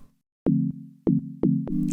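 Three or four synth tones, each with a sharp pitched attack that drops into a steady low sine hum, separated by brief gaps.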